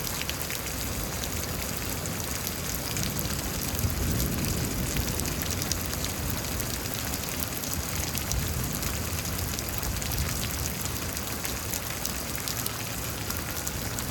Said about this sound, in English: this doesn't feel like the heaviest rain